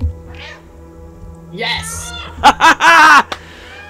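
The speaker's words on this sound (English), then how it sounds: "Oh, there's a dedicated meow button?" Cat meows from the video game Stray, triggered by a meow button and played through a controller speaker, several short close meows in quick succession following an excited voice.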